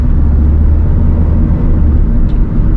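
A Hyundai Verna 2013 1.6 SX engine driving through manual gear shifts, a loud, low steady rumble that holds evenly throughout with no voices.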